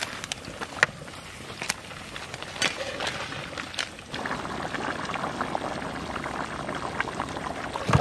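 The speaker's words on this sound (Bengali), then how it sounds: "এইবারে চলে যাবে সর্ষে বাটা," Mustard and green chilli paste added to a simmering hilsa fish curry: soft wet plops and pouring, then a faint, steady bubbling, heard up close.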